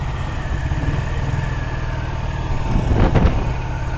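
A 1948 Vincent Rapide motorcycle engine runs steadily and close, running lean as its fuel runs out, with a rough burst of pops and crackles from the exhaust and intake breaking through near the end.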